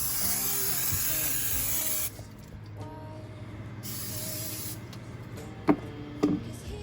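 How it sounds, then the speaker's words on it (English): A steady, close hiss of cooking spray into a casserole dish runs for about two seconds, then returns in a second long burst, with light clattering in between. "I have my casserole dish and I'm going to spray it with some pan."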